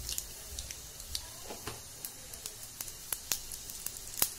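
Mustard seeds crackle and pop in hot oil, quiet sharp bursts scattered irregularly over a faint steady sizzle.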